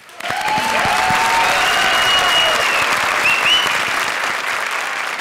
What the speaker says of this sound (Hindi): लेकिन पहले तालियों से स्वागत करिए हमारे जजेस का.